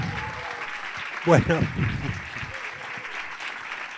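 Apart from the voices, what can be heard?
audience applause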